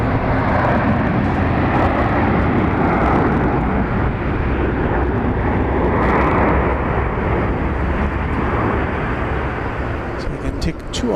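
A Western Global MD-11 cargo jet roars past at Incheon airport, its engines a loud, steady broadband rumble that holds for the whole stretch and eases slightly near the end.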